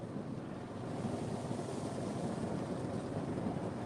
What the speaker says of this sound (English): It's going to be windy for a minute.